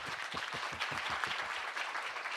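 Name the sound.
audience applause welcoming a speaker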